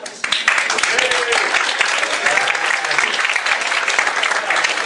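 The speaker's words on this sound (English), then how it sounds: "I think I deserve a round of applause for my friends, most of them." Audience applause at an awards ceremony for Irish blogs, a loud, dense patter of many hands that starts abruptly and keeps going steadily, with some voices or cheers mixed into the clapping.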